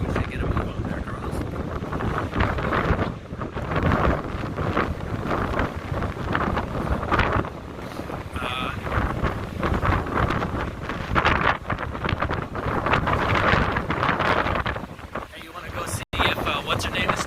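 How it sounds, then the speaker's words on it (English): Strong wind buffets the microphone on a downtown San Francisco street, with continuous rumbling gusts throughout while people talk. "Man, it's windy today."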